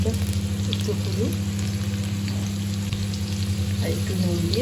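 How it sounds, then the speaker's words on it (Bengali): Potato pieces fry in hot oil in a pan, with a steady, close sizzle and crackle that runs for several seconds and occasional stirring, while cooking for a cabbage dish with fish head. "তেলটা গরম হয়ে গেছে, আলুটা আমি ভেজে নিচ্ছি।"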